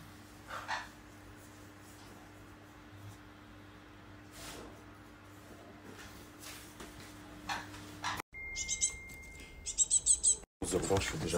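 A small bird chirps in quick, high-pitched bursts near the end, after a stretch of quiet background noise with occasional soft sounds.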